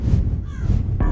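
A crow caws twice in Rise of Insanity, a short rasping call over a heavy low rumble of background noise.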